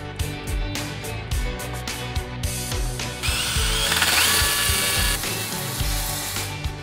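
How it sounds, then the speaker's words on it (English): Power drill pre-drilling a hole into a concrete block for a 3/16 inch screw anchor while building a gas fire pit: a close, loud whirring drill with grinding bursts and short stops, then a sustained higher-pitched drilling run. "I'm going to pre-drill a hole into our block and anchor it in with a 3/16 inch screw"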